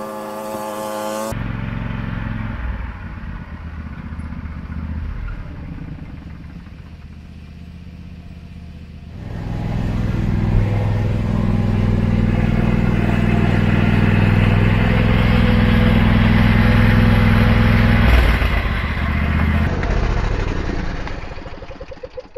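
A John Deere L120 riding mower's small engine starts after a brief click and settles into a steady, loud, close mechanical drone that rises in intensity midway and holds at a firm idle until it cuts off near the end.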